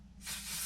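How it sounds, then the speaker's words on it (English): Freezing hairspray sprays onto a vintage poodle updo in one steady, close, breathy hiss that starts after a brief pause and keeps going. "I recommend fixing the back in place with the freezing spray"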